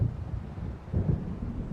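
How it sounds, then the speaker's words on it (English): Low, rolling thunder from an approaching storm in the video game Alan Wake, a rumbling swell that builds again near the end over a steady windy, rainy backdrop. "It seems there's a storm coming."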